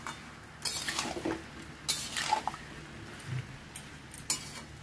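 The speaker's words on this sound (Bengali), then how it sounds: "লবণটা দিয়ে খুব সুন্দর করে নেড়েচেড়ে একটু ভেজে নেব" Salted potatoes are stirred and fried in a pan for aloo posto, a spatula scraping and clinking against the metal in a few short bursts over a faint, low sizzle, fairly quiet and close.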